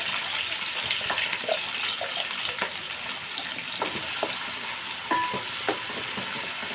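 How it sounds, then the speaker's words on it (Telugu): Chopped onions with curry leaves fry in a pan, giving a steady close sizzle broken by intermittent scraping and stirring clicks. "ఇప్పుడు మనం కట్ చేసి పెట్టిన ఆనియన్ ఉల్లిపాయలు ఉన్నాయి కదండి ఉల్లిపాయలు వేసేసుకుంటున్నాము"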